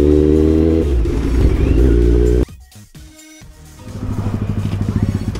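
A motorcycle engine idles with a strong low harmonic drone, cuts out abruptly midway, then restarts and settles into a throbbing, pulsing idle, loud and close.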